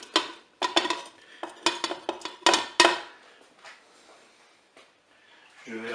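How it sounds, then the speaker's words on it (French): Carrots and shallots are tipped into the pot of a Cookeo multicooker, making a series of close, clattering knocks and scrapes against the metal that bunch up early and then fade into faint quiet shuffling. "je vais commencer par mettre mes légumes"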